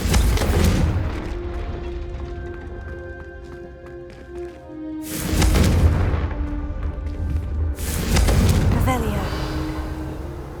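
Loud blasts of the Confringo fire spell in Hogwarts Legacy, two heavy booming bursts that erupt several seconds apart, each swelling and then fading, over a continuous musical game soundtrack.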